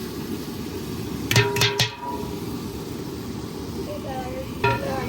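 Garam masala, salt and chili frying for deggi chana pulao give a steady, close sizzle, broken by a quick run of metallic ladle clanks against the pot and one more clank near the end.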